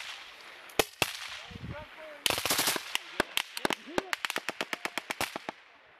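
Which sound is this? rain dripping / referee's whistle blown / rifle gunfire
rifle gunfire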